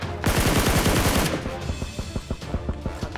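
Automatic weapon fire in PUBG: a dense loud burst of rapid shots up close, then a run of separate, evenly spaced shots that fade slightly, with no voices over it.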